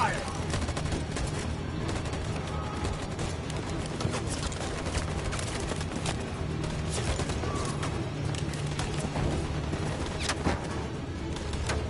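Massed gunfire volley during an armed confrontation in Detroit: Become Human, a dense, continuous crackle of many shots layered over a busy game mix for the whole stretch, with faint voices underneath.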